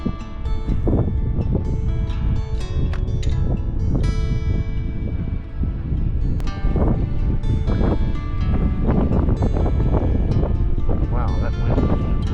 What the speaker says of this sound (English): Wow, that wind is ripping.